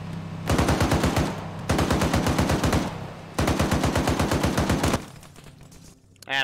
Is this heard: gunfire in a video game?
yes